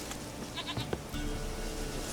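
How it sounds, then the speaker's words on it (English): A goat bleats in The Witcher 3, a few short game-audio calls over a steady ambient background with no talking. "It's a goat named Princess."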